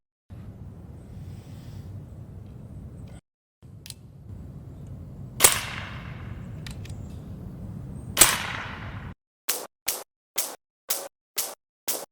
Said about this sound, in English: So we're going to do the shot string from a full tank right here, 200 bar